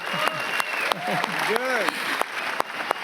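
Applause from a crowd at a Berlin red-carpet film premiere runs continuously under several voices, with sharp camera-shutter-like clicks and scattered shouts punctuating it.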